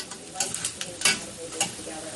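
Lobster pieces sizzle in a pan as they are turned over, giving a steady frying hiss broken by several soft clinks and scrapes of the utensil.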